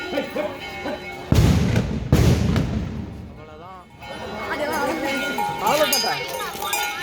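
Two sharp, loud bangs go off close together, each followed by a crackling tail, with people talking before and after.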